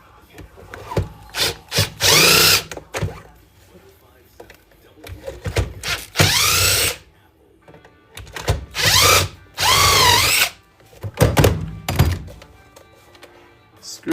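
A power drill backing screws out of battery backups being scrapped for recycling, heard as several short, loud whirring bursts separated by pauses, with clunks and handling noise between them.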